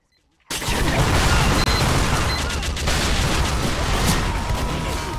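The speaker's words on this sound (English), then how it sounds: "Man, that sentry gun." A Team Fortress 2 sentry gun fires a loud, unbroken stream of rapid shots that bursts in suddenly after a short silence and keeps going to the end.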